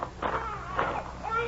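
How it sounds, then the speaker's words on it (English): Baby cries in short, faint wailing bursts, a few whimpering cries in quick succession with background hiss, heard in an old radio drama setting. "You could hear a baby crying"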